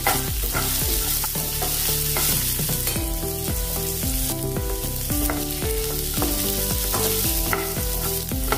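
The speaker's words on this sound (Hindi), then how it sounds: "अभी हम प्याज डालेंगे इसमें। छोटे वाले जो प्याज मैंने लिया है वो इसमें हमने डाल दिया है।" Small onions sizzle in a hot pan for an Indian jowar idli and chutney recipe, a steady frying hiss under prominent background music.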